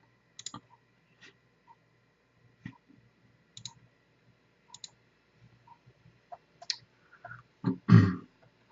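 Sparse, faint mouse clicks come singly and in pairs while a vCenter Server 5.0 installer is stepped through on a computer, followed by a louder brief thump at the end; no speech.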